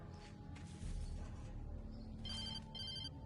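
A telephone rings in the video game Alan Wake Remastered, a short electronic bell tone heard over a dense, droning game soundscape with low rumble.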